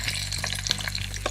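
Onions hitting a hot pan already holding cashew nuts and curry leaves give a dense, close sizzling hiss with a low steady hum beneath, brief and continuous without speech.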